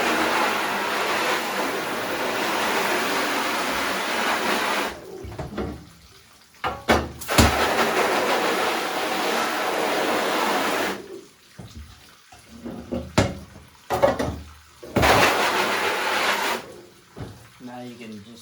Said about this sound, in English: And then just spray it with water.